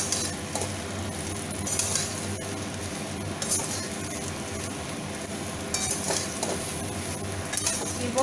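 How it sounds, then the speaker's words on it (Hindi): Jujube (ber) pickle fries lightly in mustard oil with a low, steady sizzle, broken by occasional soft scrapes and clinks of a stirring spoon against the pan. "इसमें सरसों का तेल दे के इसको हल्की सी फ्राई कर लीजिएगा।"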